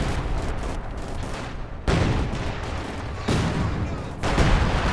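Gunfire and explosive bursts from a Company of Heroes 2 1v1 match, with a Panzer IV in play, crackle steadily throughout with sharp louder surges near 2 and 3.3 seconds and again past 4 seconds.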